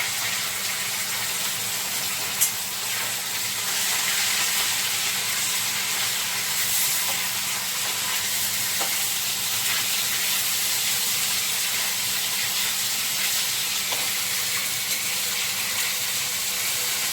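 Fish fries in a pan with a steady, broad hiss and sizzle that carries on without a break, with a faint pop now and then and no talking.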